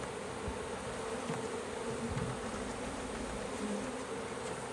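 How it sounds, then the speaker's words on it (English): A swarm of honeybees, shaken from a bush, buzzes and fans in a dense continuous drone. The hum is close and steady throughout, with small swells in intensity and no voices. "Bees are like fanning a lot since I'm shaking them pretty good"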